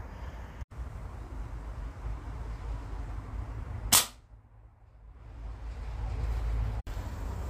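An H&N Hornet airgun pellet strikes and punches through a metal sheet, giving a single sharp crack against quiet outdoor background hiss.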